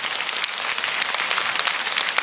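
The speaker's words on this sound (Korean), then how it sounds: "내가 박수 받으려고 그러는 게 아닌데." Audience applause rises in response to a speaker, a dense, continuous wash of many hands clapping close and loud throughout, with no talk over it.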